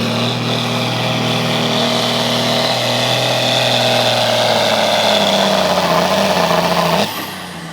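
A V8 modified tractor fitted with a 2.4-inch turbocharger roars steadily at a pulling competition, a loud sustained drone with turbo whine that holds for seconds, then drops off sharply near the end.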